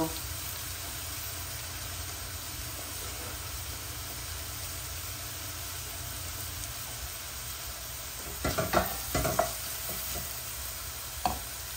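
Frozen vegetable mince frying in a pan, a steady low sizzle running throughout, with a few clattering stirs near the end.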